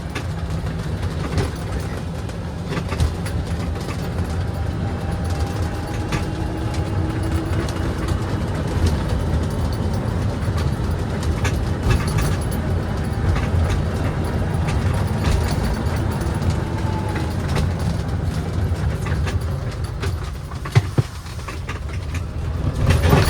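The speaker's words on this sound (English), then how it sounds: "We're going to turn the golf cart on, set to forward, and let's take this for a quick spin." Club Car Precedent golf cart driving around a residential area, a continuous low rolling hum and rumble with rattles and clicks, steady and close throughout.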